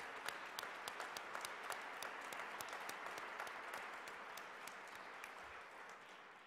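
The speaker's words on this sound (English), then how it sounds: "Can we get a round of applause for our amazing sponsors?" Audience at a Rare Disease Day 2017 event applauding its sponsors, faint and distant clapping that holds steady throughout and fades slightly at the end, with distinct individual claps standing out above the wash.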